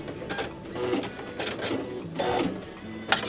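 A sewing machine stitches fabric in short quiet bursts of rapid mechanical whirring, separated by brief pauses.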